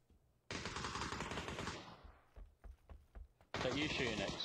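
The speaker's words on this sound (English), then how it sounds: "Is that you shooting" Gunfire in the PUBG video game: a dense automatic burst, then a few spaced single shots, then another heavy volley, loud and sharp with no speech over it.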